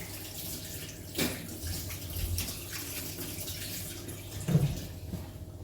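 Water runs steadily from a tap while something is rinsed under it, with splashes and a couple of louder knocks against the sink close by.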